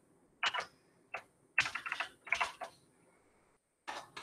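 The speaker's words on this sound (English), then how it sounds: "Wow, I am struggling with my typing today." A computer keyboard is typed on in short irregular bursts of quick clicks separated by pauses, close and fairly quiet.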